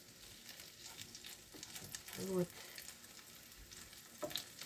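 Syrniki (cottage cheese pancakes) fry in a scraped, damaged pan, a steady close sizzle with bursts of stirring and scraping. A voice briefly speaks once over the frying.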